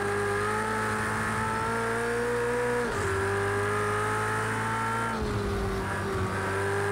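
Race car engine in the racing game Project CARS 2, a steady high-pitched whine with two sudden drops in pitch at gear changes, loud and continuous throughout, with no voices.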